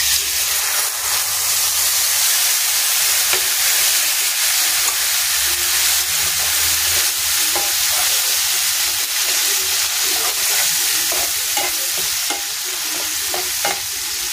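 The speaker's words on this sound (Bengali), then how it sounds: "ভালো করে কষিয়ে নেব।" Ground cumin, turmeric and salt in a spice paste are stir-fried in a pan, giving a loud, steady sizzle and hiss with frequent scraping stirs throughout, with no talk.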